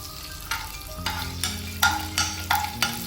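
Fenugreek seeds sizzling in hot oil after sautéed chili, onion and garlic, a steady close sizzle punctuated by regular scraping stir strokes about every half second, with no talking.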